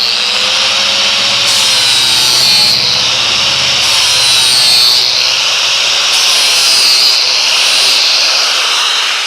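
Flapper disc on an angle grinder grinding a mower blade from a Hustler Trimstar, a loud steady high-pitched whine with rhythmic grinding swells as the disc passes along the edge, continuous and close.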